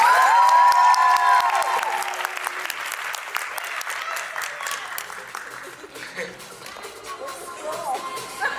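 Audience applause for a dancer at a dance competition, a loud burst of clapping with some cheering that fades gradually to a steadier, softer patter.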